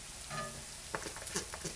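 Chopped onions and beef frying in a pan, stirred with a few scraping clinks and soft sizzle over a low steady hiss, close and fairly quiet.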